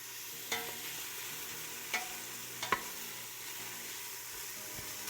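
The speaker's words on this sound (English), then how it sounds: "I'm going to turn down the heat just a little bit because I don't want the onions to burn." Onions sizzle softly in a pan on the stove over slightly lowered heat, a faint steady hiss broken by a few sharp clicks of stirring.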